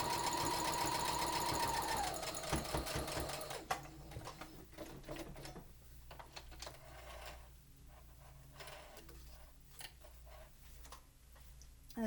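A sewing machine stitches along the folded edge of a homemade fabric mask: a fast rhythmic mechanical whirring and ticking up close, with a high whine early on that drops away into softer, intermittent stitching.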